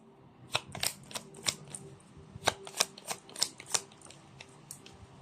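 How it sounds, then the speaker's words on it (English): A deck of blessing or oracle cards is shuffled by hand, giving a quiet, close series of crisp snapping riffles and flicks at irregular intervals against near-silence. "You saw me shuffle."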